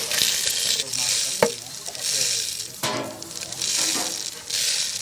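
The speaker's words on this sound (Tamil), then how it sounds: "காடை தொக்குக்கு காடையை வதக்கிக்கிறோம்" Quail pieces sautéing in hot oil for a quail thokku masala, a steady loud sizzle and frying hiss with occasional stirring clatter of a spoon against the pan, no talking.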